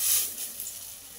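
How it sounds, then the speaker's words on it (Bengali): Drumstick leaf fritters sizzle in hot mustard oil, a steady close hiss with no talking. "এবার বড়াগুলো ভাজতে চলে যাব"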